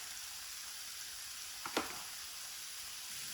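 Spices, garam masala and turmeric, sizzle in hot oil for a kachori filling: a steady faint hiss with one brief sharper crackle near the middle and no talking.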